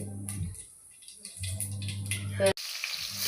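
Onions and tomatoes sauté in hot oil with fennel and mustard seeds in a pan, a soft sizzle running beneath a low hum, broken by a sharp clatter near the end before the frying hiss swells again.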